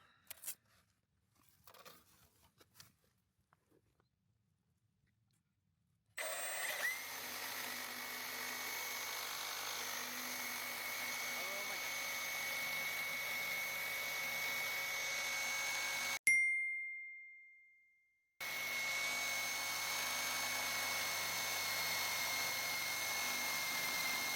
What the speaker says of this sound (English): I gotta cut the filter off the housing